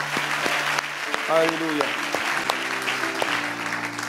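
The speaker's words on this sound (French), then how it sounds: "Pouvons-nous acclamer le Seigneur?" A church congregation applauds throughout a sermon, producing steady, dense clapping that fills the room while a voice calls out over it.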